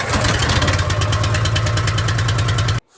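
A pressure washer engine mounted on a van rack runs at a loud, steady, close chugging idle, then cuts off abruptly near the end.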